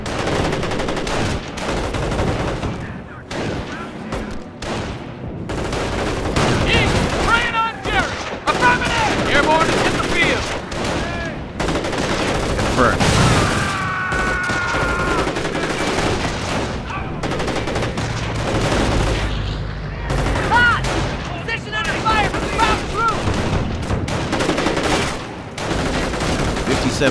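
Battlefield gunfire in Company of Heroes, sustained rifle and machine-gun fire crackling in overlapping bursts throughout, with scattered shouted unit voices and radio-style chatter mixed in.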